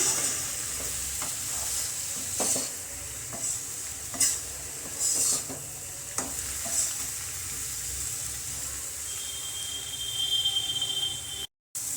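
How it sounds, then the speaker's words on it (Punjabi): Tomatoes and spices cook in a pan for paneer bhurji, giving a constant close sizzle broken by scattered sharp clicks and scrapes of stirring, with no talk. "ਟਮਾਟਰ ਪਾ ਕੇ ਆਪਾਂ ਚੰਗੀ ਤਰ੍ਹਾਂ ਇਹਨਾਂ ਮਸਾਲੇ ਨੂੰ ਗਲ ਦਵਾਂਗੇ"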